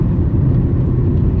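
A car engine runs at a steady idle-like rumble during a test drive, heard close and continuous with no voices.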